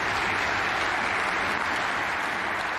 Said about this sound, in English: Yeah, a round of applause